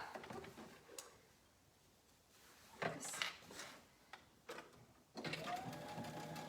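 A sewing machine stitches a pocket on women's pajama shorts in short quiet bursts of rapid mechanical whirring, broken by pauses with faint handling clicks and rustles.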